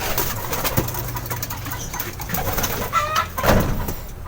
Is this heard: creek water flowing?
no